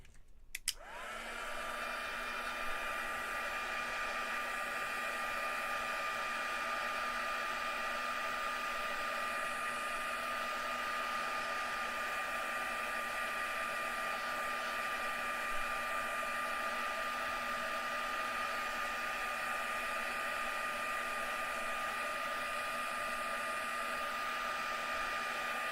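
Hair dryer blasting air to dry wet gesso; after a brief click it switches on and runs as a steady, loud, even whine with a constant hum for the whole stretch, close and alone.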